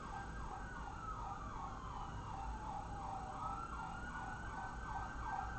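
Emergency vehicle sirens wail continuously in a steady repeating up-and-down sweep, heard from indoors at moderate distance with no talking over them.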